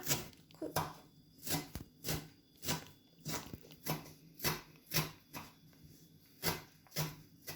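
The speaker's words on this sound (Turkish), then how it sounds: "dereotlarımızı da küçücük küçücük doğradık." A knife finely chops dill on a board for zucchini fritters, giving steady rhythmic crisp chops about twice a second, close and clear, with no talk.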